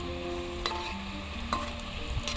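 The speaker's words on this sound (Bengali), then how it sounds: "এরকম ধরে আমি ভালো করে মুচমুচে করে ভেজে নেবো" French fries deep-frying in hot oil give a soft, steady sizzle that stays faint and continuous throughout, with a few light clinks and a quiet tonal hum in the background.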